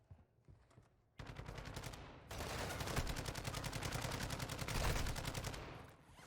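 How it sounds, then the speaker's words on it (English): Sentry gun in the Call of Duty DMZ video game firing long rapid automatic bursts, a dense rattle of shots that starts after a brief pause and keeps going loudly for several seconds. "avoid getting hit by this sentry gun."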